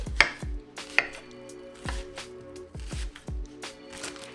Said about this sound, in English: And the rest, I'm just gonna chop up here.